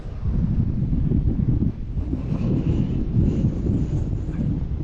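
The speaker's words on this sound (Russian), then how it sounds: "Ветер дует, не прекращается" Strong wind blows continuously on a Buenos Aires waterfront, with waves splashing up over the edge, roaring and buffeting the microphone with heavy low-pitched gusts and no break.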